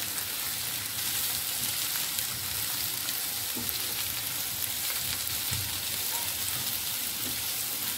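Bhindi (okra) sizzles loudly in a frying pan with a dense, rain-like hiss while being stirred, and occasional soft scrapes and knocks sit under the even frying noise.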